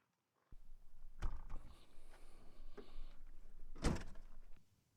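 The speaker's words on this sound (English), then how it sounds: "you'll see that you can still operate the slide and open the drawer" A Hooke Road cargo drawer and fridge slide in the back of a Jeep is worked by hand. Sliding rumbles run under a couple of sharp knocks and clunks at close range, and the sound ends with a heavier thud.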